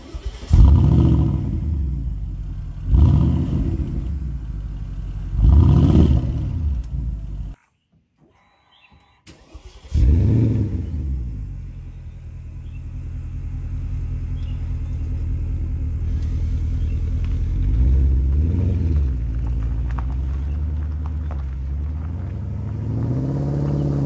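Porsche Cayenne Turbo 2010 with 500 hp and a Remus stainless exhaust with rear outlets, revving in three loud bursts, then a brief silence before the engine returns to a steady deep rumble, rising again near the end.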